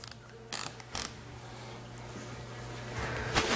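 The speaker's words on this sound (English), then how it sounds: "let's go back to our torque wrench." Torque wrench tightening valve body bolts on a 4L60E transmission, giving a few sharp clicks and ratchet bursts near the start and end over a steady low hum, close and fairly quiet.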